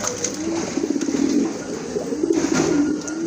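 Pigeons at a bustling pigeon market, including large-sized birds, give a steady low cooing that continues throughout amid crowd murmur and handling noise.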